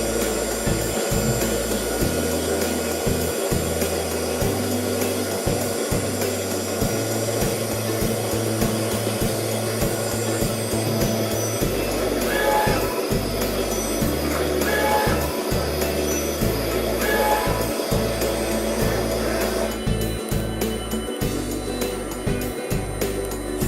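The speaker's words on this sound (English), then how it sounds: "the machine will initialize and begin the print job" Roland VersaUV LEF-12 UV printer initializing and then printing, a steady mechanical hum with repeated carriage movements and pulsing motor cycles running throughout at a constant level.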